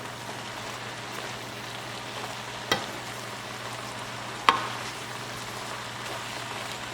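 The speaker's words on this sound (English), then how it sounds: "Salt and pepper in. I'll give it a good stir" Stuffing seasoned with salt and pepper being stirred in a large saute pan, a soft continuous sizzle with two sharp knocks of the utensil against the pan.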